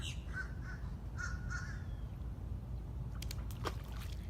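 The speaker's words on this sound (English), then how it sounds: "I got some crows going wild in the background." Crows at a Florida beach give a few sharp caws in quick clusters over a steady low wash of wind and surf, fairly distant, with no talking.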